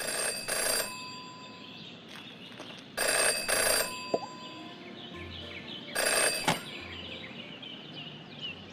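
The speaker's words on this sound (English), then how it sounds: "never to ignore a ringing phone" An old telephone bell ringing in the Detective Jenny LeClue video game, three loud bursts of rings spaced about three seconds apart over a quiet ambient background.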